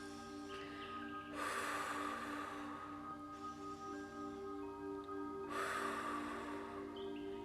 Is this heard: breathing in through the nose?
yes